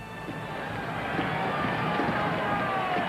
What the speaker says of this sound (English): The crowd begins to cheer now as these 2 teams come back out on the floor.